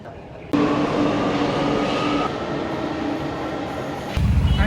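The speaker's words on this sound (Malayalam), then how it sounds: "ഇവിടെ നമ്മൾ മെട്രോ എത്തിയേട്ടാ" A Chennai metro train rumbles steadily on the rails as it arrives at the station, a continuous close roar with a faint whine and a sudden louder surge near the end.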